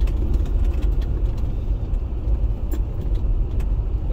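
Car engine running with low rumble out in snow, fitted with a Pedal Commander throttle controller and cold air intake; steady, loud drone without clear rev peaks, occasional faint clinks on top.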